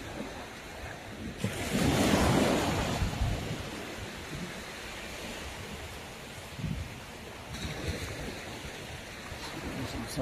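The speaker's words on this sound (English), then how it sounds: "Very calm beach" Gentle waves wash onto a calm open-sea beach in Shinas, Oman, a soft surge swelling early and then settling into a low, steady rush with occasional splashes.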